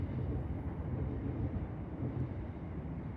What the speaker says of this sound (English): You can hear that train going past.